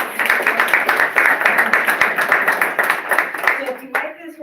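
An audience at a small-business AI workshop gives a steady round of clapping that carries on for several seconds before thinning out near the end.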